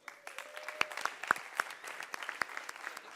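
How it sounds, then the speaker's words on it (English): An audience claps to welcome guest speaker Steve Keen at an economics talk, with scattered sharp claps that thicken into light applause. "please give a warm applause to our guest,"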